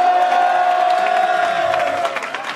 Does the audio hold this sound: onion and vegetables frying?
no